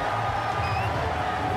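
A large stadium crowd of over twelve thousand at a rugby match claps and cheers steadily, a dense wash of applause heard at a distance.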